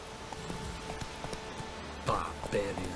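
Hooves of Geralt's horse Roach clop at a steady pace across a Witcher 3 landscape, soft, rhythmic and continuous beneath a voice speaking near the end.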